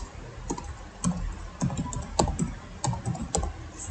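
Typing on a computer keyboard while entering database table commands, with irregular bursts of clicky keystrokes and short pauses between words, close and moderately quiet.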